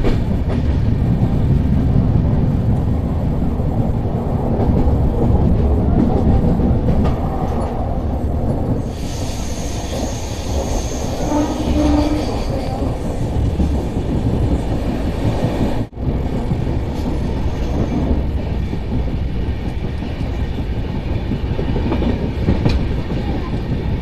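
Sinhagad Express passenger train from Pune to Mumbai rolls steadily onward, a continuous loud rumble of wheels and carriages with faint clatter throughout and a brief sharp knock near the end.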